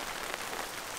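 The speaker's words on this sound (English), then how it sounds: "we got this steady drizzle" Steady light drizzle falls on a wet campsite at a dam edge in the early morning, a soft continuous hiss of fine rain pattering on surfaces with no voices.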